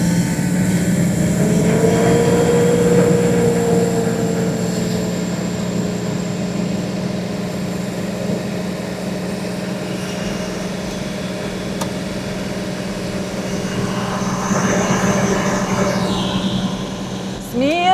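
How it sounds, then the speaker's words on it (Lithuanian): A Range Rover engine idles and is revved to around 2000 rpm, a steady engine drone running under talk throughout. "Kai užvesi, čiut pagazuok. Pakelk 2000 apsukų."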